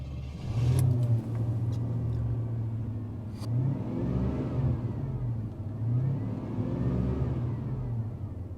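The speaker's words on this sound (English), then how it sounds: "Let me start up the engine so I can show you what the engine sounds like." The engine of a 1981 Cadillac Eldorado catches and settles into a steady, close idle, its low rumble swelling a few times with light revs and no talk over it.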